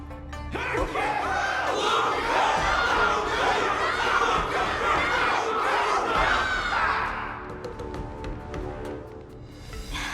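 A large crowd roars and cheers continuously for Luca after a moving battle, a dense mass of shouting voices that stays loud for most of the stretch before easing into scattered background noise.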